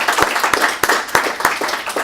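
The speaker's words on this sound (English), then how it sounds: "on peut les applaudir" Conference audience applauding, with distinct, fairly loud claps landing in a loose, regular rhythm over a bed of scattered clapping throughout.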